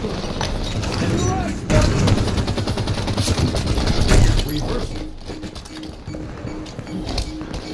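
Halo 5 multiplayer Slayer match gunfire sounds as rapid automatic bursts and clattering weapon fire in the game, busy and fairly close, with a player's voice talking over parts of it.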